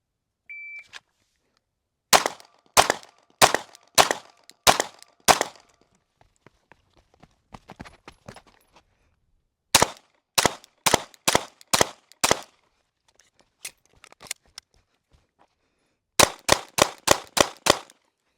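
Range drill with a shot timer beep followed by bursts of handgun fire, several groups of five or six sharp, rapid shots separated by pauses, loud and close.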